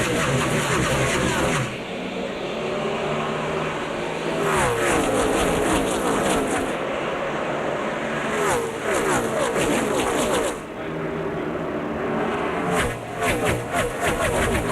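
Race cars, Toyotas, Fords and Chevrolets, roar as the field takes the green flag with 60 laps to go, a loud continuous wash of engines with surges and passing cars, while announcers talk over it.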